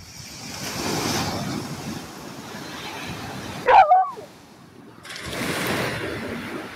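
Waves wash and wind rushes steadily while sailing on Chesapeake Bay in 15 to 25 mph wind, a continuous broad surf noise with a brief louder splash or knock midway and a short near-quiet gap before the wash returns.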